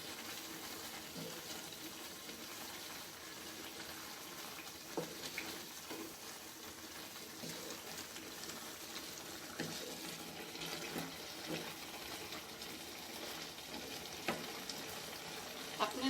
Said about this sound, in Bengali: এটাকে ভালো করে মিক্স করে দিব।